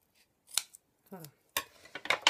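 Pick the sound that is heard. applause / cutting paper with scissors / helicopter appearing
cutting paper with scissors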